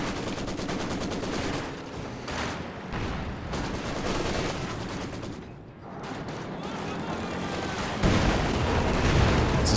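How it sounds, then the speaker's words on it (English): A machine gun in a World War II strategy game fires at a P4 tank in long rapid bursts, with dense crackling rounds and heavier booms mixed in under a faint layer of battle noise. "This gun opens up on the P4 again."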